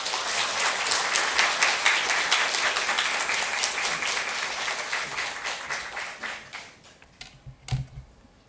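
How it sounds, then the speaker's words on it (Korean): Church congregation gives a welcoming round of applause for a missionary coming forward at Sunday worship, dense clapping that gradually thins into a few scattered final claps and a soft thump. "우리 선교사님 나오실 때 환대의 박수로 맞아 주시기를 바랍니다"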